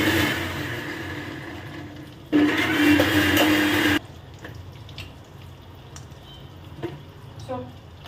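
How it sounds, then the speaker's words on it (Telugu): A kitchen mixer grinder blends green chilies and tomatoes into a paste in one loud whirring burst of under two seconds, then cuts off, leaving quieter handling sounds. "పచ్చిమిర్చి టమాటాని మిక్సీకి వేస్తాను"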